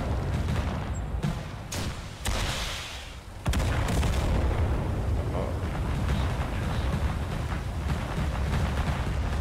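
Heavy gunfire and artillery booms from the war video game Total Conflict Resistance pound continuously, with dense loud bursts and rumbling blasts that surge after a brief lull, while a voice is faintly heard beneath.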